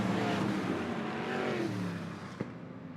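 Dwarf race cars on a speedway under green flag racing for the lead, engines roaring loud and close and then fading slightly as they pull away, with a short knock near the end.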